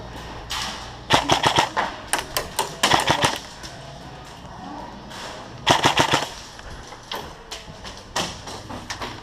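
Airsoft guns firing during an outdoor team deathmatch, rapid bursts of sharp snapping shots in two main volleys with scattered single pops between, mid-distance and loud.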